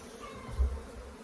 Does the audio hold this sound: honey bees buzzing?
yes